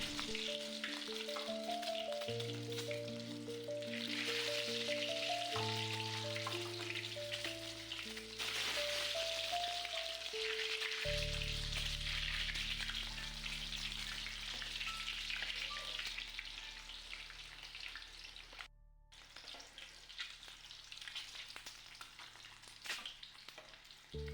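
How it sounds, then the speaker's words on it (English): Eggs deep fry in hot oil in a pan, a steady bubbling sizzle that runs throughout beneath sustained background music, dipping briefly near the end. "heat some oil in a pan and slightly deep fry the eggs until they turn golden"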